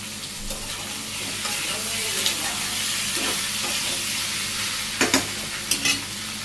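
Ash gourd curry with coriander powder and green chillies frying and being stirred in a pan, a steady close sizzle with scraping spoon strokes and a few sharper clatters near the end.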